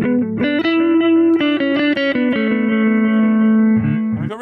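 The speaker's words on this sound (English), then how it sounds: "We've got delay." A guitar plays a short run of notes through the delay effect of an affordable headphone practice amp, with repeats trailing after each note, loud and close, no voice.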